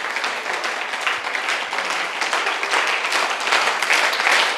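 An audience claps together during an indoor training session, a steady, dense patter of many hands at moderate loudness that builds slightly toward the end.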